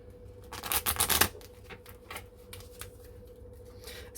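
A deck of tarot cards is shuffled close by, with a dense riffling burst at the start followed by softer, irregular card rubbing and tapping.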